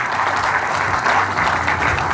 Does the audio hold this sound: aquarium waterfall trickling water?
no